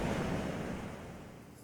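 Steady ocean surf washes in a continuous, broad roar that eases slightly toward the end, with no voices.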